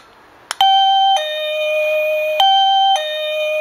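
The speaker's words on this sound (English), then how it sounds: "I'm going to go ahead and plug in the doorbell to give it a test right here." A Saicoo wireless digital doorbell plays a clear two-tone ding-dong chime twice, loud and close, with nothing else audible.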